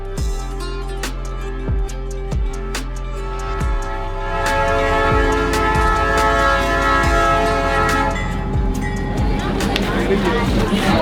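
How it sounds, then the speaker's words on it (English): A train rolls through a market built on the tracks, where vendors pull back their tents as it approaches; a steady rumble and clatter builds and grows louder toward the end, with people talking in the background. "Train's coming, everyone's pulling their tents back."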